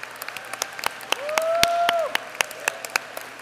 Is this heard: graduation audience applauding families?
yes